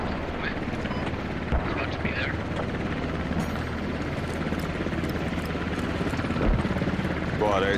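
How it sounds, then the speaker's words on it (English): An enemy helicopter in a combat video game drones with a steady rotor and engine hum under game sounds, while a player talks over it. "is that enemy heli?"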